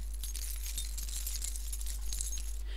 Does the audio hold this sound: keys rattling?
yes